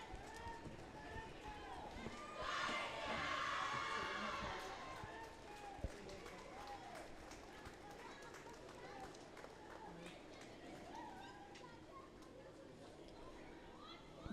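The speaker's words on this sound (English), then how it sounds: "India cheering." A crowd cheers for India at an Indo-Sri Lanka Under 21 girls' water polo match, swelling into a loud burst of cheering early on, then settling into ongoing poolside chatter and voices.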